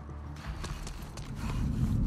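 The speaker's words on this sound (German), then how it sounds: "Ich höre sie rennen! Gleich hier!" Infected running footsteps in The Last of Us Part II, a rapid patter of steps growing louder as they close in, over a rising low rumble, with a voice faintly audible.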